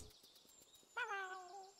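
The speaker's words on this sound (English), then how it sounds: "What do you want now, kitty?" A cat in the Chat Noir video game gives a single clear, drawn-out meow that rises and then slowly falls, heard alone after a soft pattering background.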